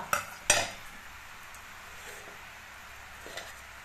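Murukku dough pressed into hot oil in a kadai starts with two sharp metallic clinks, then settles into a quiet, steady frying hiss up close.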